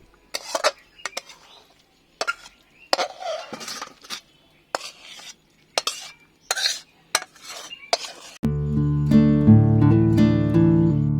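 Vegetarian Bengali cabbage curry (bandhakopi jhal) with garam masala is scraped out of the pan with a spoon in a series of close, uneven scrapes and clinks. Music takes over in the final few seconds, and no one talks.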